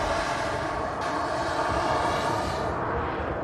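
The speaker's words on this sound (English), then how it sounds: "There's a Scandinavian Embraer coming in" A Scandinavian Airlines Embraer jet comes in to land at Manchester Airport, its engines a loud, continuous whine and roar that thins out toward the end.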